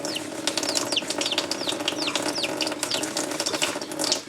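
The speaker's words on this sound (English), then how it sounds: "Warm running water. So, turn on some water." Lukewarm water runs steadily from a tap in a continuous splashing stream, with faint chirping from a chick heard over it.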